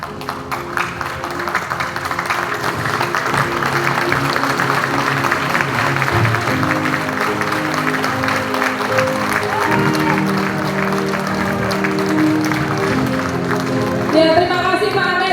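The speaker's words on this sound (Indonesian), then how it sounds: "tepuk tangan yang meriah ya buat Pak Amir" Audience applause rings out for a man named Pak Amir at a motivational event, steady and sustained throughout with music playing underneath.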